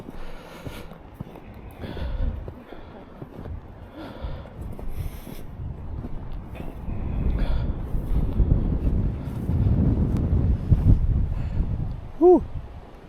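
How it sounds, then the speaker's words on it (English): Wind buffets the microphone during a walk along a snowy path, a low rumbling gusting that swells and fades throughout, with a person breathing and speaking briefly over it. "A little windy."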